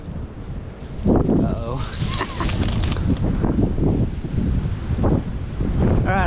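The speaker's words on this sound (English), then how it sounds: "apologize again for the wind" Gusty wind buffets an outdoor microphone beside water while trapping raccoons, a loud continuous rumble with swelling gusts that runs under a brief spoken exclamation.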